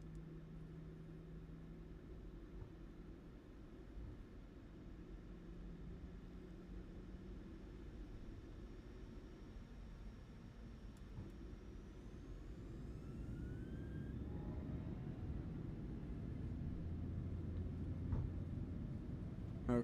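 A PMDG 737-800 cargo jet rolls for takeoff in a flight simulator, its engine roar a low, steady rumble that builds gradually and grows louder and rougher toward the end, heard alone without voices.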